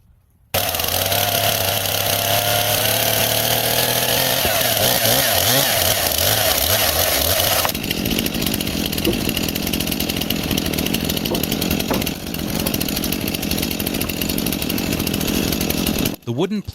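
A chainsaw cuts wooden planks for a window frame at an off-grid wilderness cabin build, its engine roaring loud and close with a rising, straining pitch through the cut before settling into a steadier, rougher drone, no talking.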